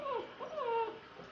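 A dog whimpers up close in a bathing setting: a quiet, high, wavering whine rising and falling in two or three drawn-out cries over just over a second.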